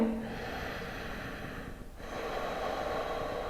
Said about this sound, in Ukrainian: Дихаємо глибоко через ніс джай.